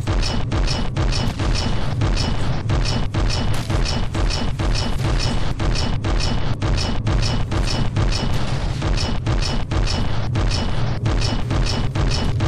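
A large cannon fires over and over in the naval combat game From the Depths, a rapid, steady stream of booming shots packed closely together with continuous heavy rumbling underneath.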